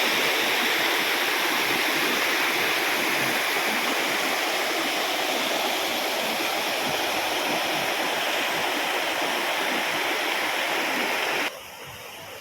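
The Vadattupara waterfall stream at Kothamangalam rushes in a dense, steady roar of falling water, close and continuous, then drops abruptly in level near the end.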